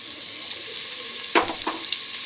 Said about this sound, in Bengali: এবার আমি পেঁয়াজটাও কিন্তু লাল লাল করে ভেজে নেব।